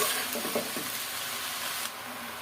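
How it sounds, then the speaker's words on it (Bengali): Leafy greens (shak) sizzle steadily in a hot pan while being stirred, a close, continuous frying crackle with soft scraping of the stirring utensil. "শাকটা নাড়াচাড়া করতে করতে অনেকটাই কমে যাবে"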